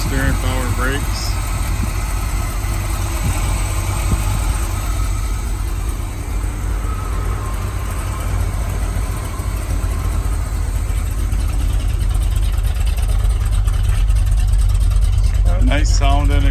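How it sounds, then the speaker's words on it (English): A 1977 Chevrolet K10 truck engine runs steadily with a loud, continuous exhaust rumble close by, holding an even idle throughout with brief faint sounds near the start and end. "Nice sounding exhaust."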